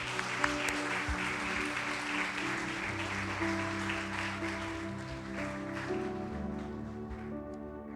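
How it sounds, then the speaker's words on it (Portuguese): Church congregation applauding to glorify God, sustained clapping from a crowd blended with sustained organ or keyboard chords underneath, steady and fairly loud throughout. "Você pode aplaudir e glorificar o nome do Senhor?"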